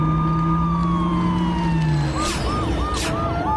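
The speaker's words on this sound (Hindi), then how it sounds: "तभी पुलिस की गाड़ी आई।" A cartoon police car siren wails nearby, its pitch sliding down and then cycling through quick rising and falling yelps over a dense, steady background.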